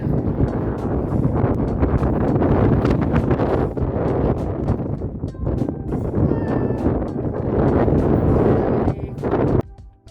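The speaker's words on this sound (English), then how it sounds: "Wind." Gusty wind buffeting a microphone outdoors on a long-distance walk from the Mexican border, a loud rumbling roar with rapid bursts and rustles for about ten seconds before cutting off abruptly.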